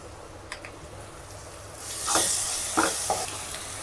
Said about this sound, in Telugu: అల్లం వెల్లుల్లి పేస్ట్ బాగా వేగిన తర్వాత